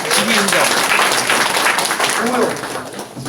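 Audience applause for the mayor at a Namwon city policy briefing, brief clapping from the crowd mixed under a voice talking.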